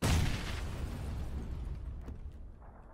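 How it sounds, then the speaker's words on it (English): A grenade goes off in PUBG with a sharp, heavy boom at the start, followed by a long rumbling decay that fades over a few seconds. "Grenade."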